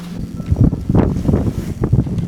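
Strong wind sweeps across a seaside campsite near Tadoussac, buffeting the microphone with loud, rumbling gusts that swell and ease unevenly, no voices heard.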